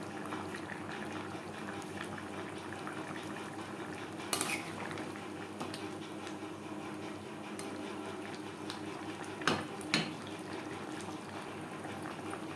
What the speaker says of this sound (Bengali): চিকেনের সাথে টমেটো বেশ ভালো করে মিক্স করে দেব